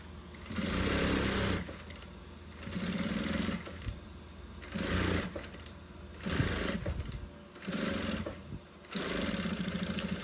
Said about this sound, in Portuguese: eu coloco aqui o meu forro e vou passar uma costurinha.